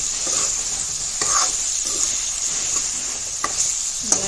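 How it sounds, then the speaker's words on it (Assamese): Potatoes go into meat frying in a pan for an Assamese home lunch, giving a steady close sizzle with stirring scrapes and a few sharp clinks over about four seconds, and no talking. "এয়া মাংসখিনি অলপ সিজিলে আৰু এতিয়া ইয়াত মই আলু দি দিম।"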